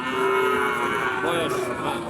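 A single drawn-out moo from a local-breed cow at a cattle market, close and fairly loud, holding one steady low tone for a couple of seconds.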